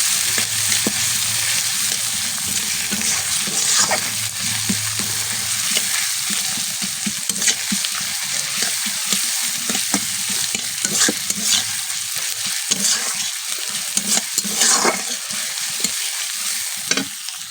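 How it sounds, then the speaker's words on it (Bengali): Chopped onions sizzling steadily in hot oil for a prawn and potato curry, with frequent scraping stirs of a spoon against the pan, close and continuous, no voices. "এবার দিয়ে দেবো পেঁয়াজ কুচি, দিয়ে দিয়েছি, মিক্স করে নিব একটু।"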